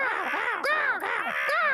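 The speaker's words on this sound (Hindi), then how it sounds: "वो रहे कौवे" Crows caw in a Ninja Hattori cartoon, harsh repeated calls in quick succession, loud and close, with no talking over them.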